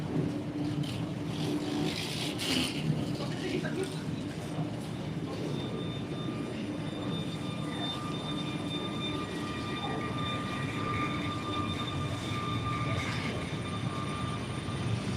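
A distant rumble of a departing IC Zamoyski train at Toruń Główny station builds and fades into broad noise, with a few faint clanks and a thin high whine.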